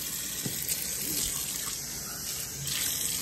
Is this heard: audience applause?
no